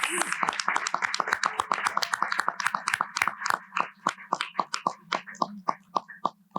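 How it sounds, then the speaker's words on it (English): Audience applause for competition teams at a business case competition, dense clapping from many hands that thins toward the end into scattered individual claps. "let's give a big round of applause for all of our teams."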